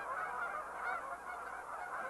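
A goose held for banding with its head tucked under its wing gives continuous honking and calling, close and steady, over a broad noisy background.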